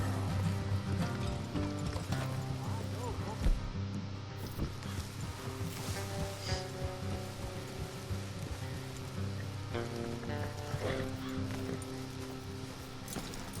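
Steady clip-clop of horse hooves in the video game Red Dead Redemption 2, over a dense layer of background music and ambient rain-like noise, with faint talk now and then.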